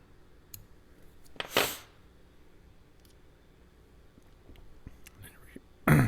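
Small scissors snipping tying thread at a fly-tying vise while a parachute BWO thorax emerger is tied, two short crisp cuts separated by a quiet pause, close and fairly soft.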